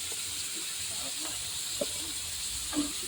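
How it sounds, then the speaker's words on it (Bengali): Prawns frying in hot oil give a steady, hissing sizzle that runs evenly from start to finish, with a few faint clinks and soft murmurs beneath. "একই তেলেই কিন্তু আমরা চিংড়ি মাছটাকে ভাজবো"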